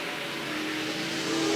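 The 01 Super Sport race car at Willamette Speedway in 1989, driving hard into turn one with a loud, steady engine roar that swells slightly toward the end.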